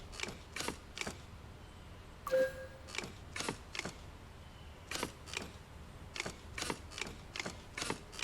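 A wrench loosens bolts during a virtual-reality automotive mechanic job, giving a series of sharp mechanical clicks and ratcheting ticks in short bursts, close and fairly quiet, with no talking.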